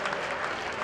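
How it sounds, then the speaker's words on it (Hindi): Brief burst of audience applause welcoming a chief minister at a government event, dense and even clapping without voices over it. "हम सभी दोनों हाथ ऊपर करके जोरदार तालियों के साथ मुख्यमंत्री जी का अभिवादन करें"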